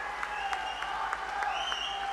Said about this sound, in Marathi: आपल्या सगळ्यांचं भाग्य आहे की या देशाचे दुसरे लोहपुरुष अमित भाई शानसाठी जोरदार टाळ्या वाजवायच्यात